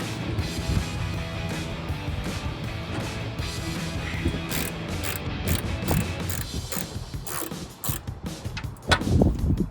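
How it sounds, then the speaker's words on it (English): A ratchet fitted with a 7/32 socket loosens the headlight bolts on a 2015-2023 Ford F-150. Fast, close clicking runs in repeated bursts, with metallic handling clatter near the end. "I got my 7/32 socket here. I'm just gonna take off these bolts."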